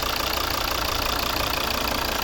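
Volvo V60 R-Design 2.0 D3 diesel with automatic gearbox, 2012, running at idle: a steady, even engine drone with a low knocking undertone, close and unbroken, no voices.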